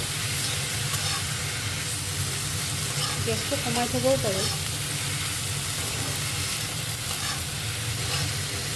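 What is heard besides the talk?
vegetables frying in a pan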